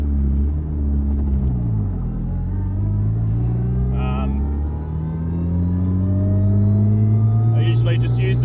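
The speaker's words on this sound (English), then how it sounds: "and then it goes into first gear nice." A Mazda RX7 rotary engine with a six-speed HGT sequential gearbox pulls away in first gear, its steady loud droning rumble slowly rising in pitch as it accelerates, close by.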